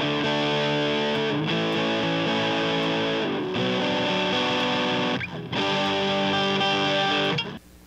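Heavily distorted electric guitar through an all-valve Marshall DSL 20 amp, playing sustained chords with thick harmonic buzz, loud and continuous, with brief gaps between chord changes and no talking.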